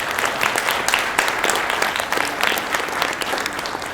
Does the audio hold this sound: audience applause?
yes